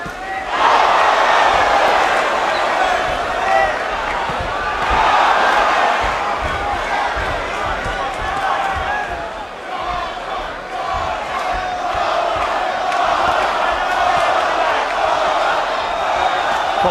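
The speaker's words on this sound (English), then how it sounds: "Cotto, the cheers of the crowd go out again." A large boxing crowd roars and chants in support of Miguel Cotto, loud and sustained with swelling waves of cheering throughout.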